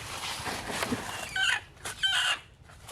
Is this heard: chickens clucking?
yes